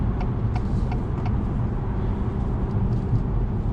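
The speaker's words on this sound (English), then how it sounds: "You're going to get that road noise." Steady low rumble of road and tire noise inside a moving 2021 Acura TLX sports sedan on sportier tires, a constant broadband roar with faint intermittent ticks, no voices over it.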